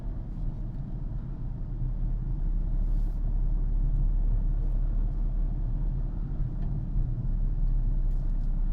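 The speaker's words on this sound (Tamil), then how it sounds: "தேர்ட் கியர்லேயே போகிறேன்" Car cruising steadily in third gear through Chennai traffic, a continuous low engine and road rumble holding even throughout, close and moderately loud with no talking.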